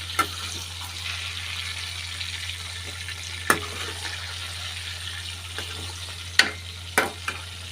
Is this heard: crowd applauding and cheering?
no